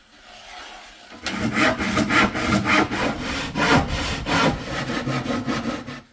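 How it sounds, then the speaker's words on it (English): A hand saw cuts a piece of wood into lengths, quiet at first, then a close, loud run of rhythmic rasping back-and-forth strokes that keep a steady pace. "So I'm going to cut this into 3 lengths"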